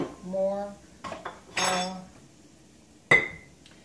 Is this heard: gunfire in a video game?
no